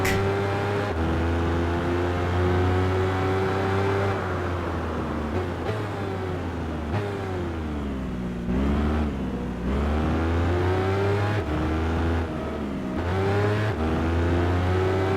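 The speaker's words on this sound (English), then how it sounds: "I also forgot this is a low RPM revving bike." Buell motorcycle engine in the Tourist Trophy racing game, a low-RPM bike revving loudly and continuously, its pitch rising and dropping through gear changes with no break.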